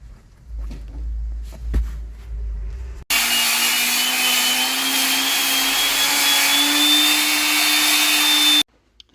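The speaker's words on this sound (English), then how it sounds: "Go sand this one down." A power sander working on a piece of repurposed wood starts up after a few quiet knocks, then runs loud and steady with a constant whine for several seconds before cutting off abruptly.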